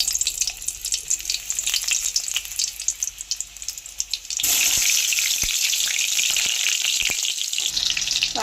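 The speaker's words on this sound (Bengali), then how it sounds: "তেল গরম হয়ে গেছে, এবার আলুগুলো ভেজে নেব।" Stuffed Kashmiri-style potatoes for aloo dum fry in hot oil in a wok, a quieter crackle first, then a sudden loud hissing sizzle as they go in, with occasional stirring clinks and a steady bubbling roar.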